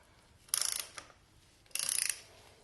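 A ratchet works the oil drain bolt loose on an '08 Yamaha R6, giving two short bursts of rapid clicking, close and fairly quiet, with no voices.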